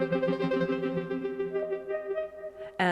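A sustained synth chord from an Arturia PolyBrute 12 with aftertouch driving the LFO rate, the steady tone wobbling in pulses that speed up slightly. It ends in a sudden bright burst.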